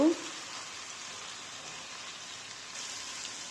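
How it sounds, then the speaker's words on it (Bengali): Onions frying in hot oil until brown, a steady, even sizzle that hisses continuously after a brief sound at the start. "দিয়ে দিলাম পেঁয়াজ, পেঁয়াজকে বাদামি কালার হওয়া পর্যন্ত ভেজে নেব।"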